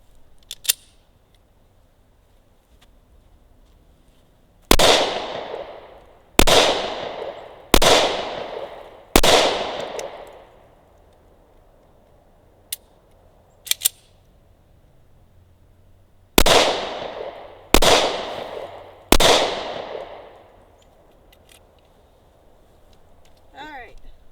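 Seven loud pistol shots from a Smith & Wesson Shield in .45 ACP, fired outdoors at a range in two clusters: four shots spaced about a second or two apart, then after a pause three more, each cracking sharply with a ringing decay.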